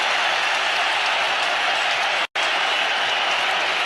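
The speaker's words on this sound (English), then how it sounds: "The crowd is delirious." A packed Eden Gardens crowd roars and applauds at a 1993 India versus West Indies cricket final, a dense, loud, continuous wall of cheering that cuts out for an instant midway before surging back.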